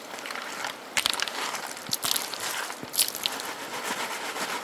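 A bucket classifier holding water and a scoop of gravelly prospecting material is shaken by hand, giving a rough wet rattling and sloshing with sharp crunchy jolts at roughly one-second intervals, close and without talk.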